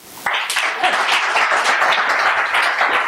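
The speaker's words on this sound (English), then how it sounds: "So please join me in a warm round of applause for Sarah and Ben." Audience applause breaks out at a business conference for two presenters, a dense, steady wash of many hands clapping that starts abruptly and stays loud for the whole stretch.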